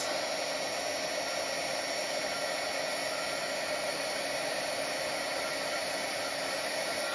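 Heat gun for craft embossing blowing hot air, a loud, steady, close broadband roar with no break.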